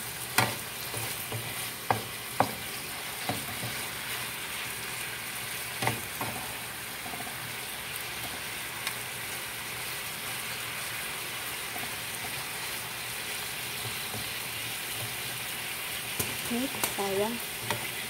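Chicken and potatoes sizzle steadily in a frying pan while being stirred, with scattered scraping clicks and spatula knocks over a continuous close frying hiss.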